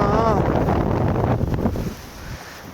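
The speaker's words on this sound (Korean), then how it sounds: "아, 바람 불어" Strong wind at Gwangchigi Beach on Jeju Island, loud gusty rumbling against the microphone that fades toward the end, with a person's voice briefly audible under it.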